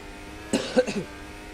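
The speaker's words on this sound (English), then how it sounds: "if you do hear me cough" A few quick, soft chesty coughs in a row, muffled and fairly close, against a faint background hiss.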